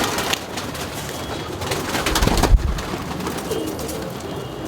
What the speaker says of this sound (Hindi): इधर से ये भाई कुछ मेरे फेवरेट कबूतरों में से है